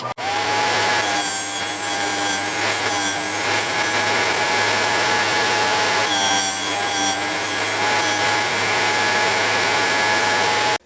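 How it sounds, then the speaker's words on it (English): A Vevor bench grinder sharpening a 3/8 drill bit: a loud, steady grinding whine with a rasping, scraping edge, continuous for about eleven seconds, briefly easing and surging again midway. "come right back and we'll grind it again"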